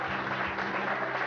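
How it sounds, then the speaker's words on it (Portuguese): A church congregation claps in a short, continuous burst of applause, heard fairly softly and evenly across its brief duration. "Dê uma linda salva de palmas para Jesus."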